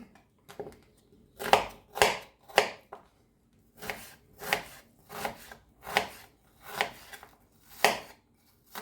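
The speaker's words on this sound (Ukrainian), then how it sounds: "Наріжу цибульку." Knife chopping onion on a board at home while preparing a potato and meat pie filling: about ten crisp, evenly paced cuts in two bursts, close and moderately loud, with no talking.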